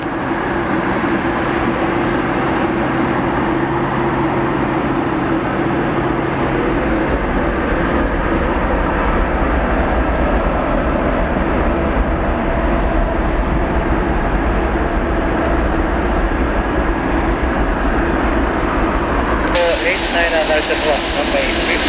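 WestJet Boeing 787-9 airliner C-GMKS taking off at night from Narita International Airport, a loud, steady roar of jet engines held throughout, with radio chatter mixed in.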